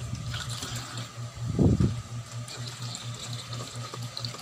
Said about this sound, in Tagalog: agad-agad pagising ko, hugas plato.